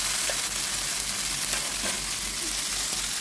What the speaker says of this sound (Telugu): టమాటా కొద్దిగా అలా మగ్గిన తర్వాత అందులో ఈ కొత్తిమీర కడిగి పెట్టుకున్న కొత్తిమీర వేసేసుకుందాం